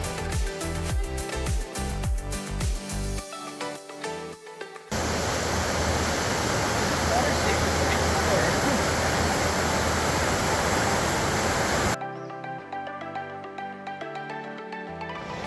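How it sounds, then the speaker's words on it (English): A mountain cascade in Glacier National Park, Montana, rushes over cut rock as a loud, steady roar of water that holds for several seconds between stretches of other sound. "Here at the Sacred Dancing Cascade, this is really interesting, where the rocks have been like really cut into"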